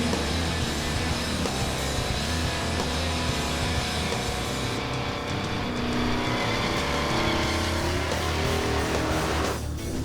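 A 1986 Ford Mustang's engine revs hard while tires squeal and scream in a sustained burnout during a burnout contest, the roar rising and wavering for ten seconds.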